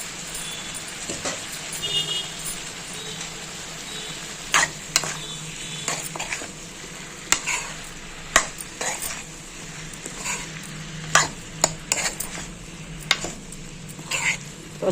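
Mushrooms fry in a kadhai at home as a metal utensil stirs and scrapes them, sharp clinks and knocks recurring irregularly over a soft, steady sizzle.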